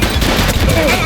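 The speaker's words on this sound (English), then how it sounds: "Shots fired!" A short, loud burst of rapid gunfire in The Precinct video game, dense and close, with a voice shouting over it.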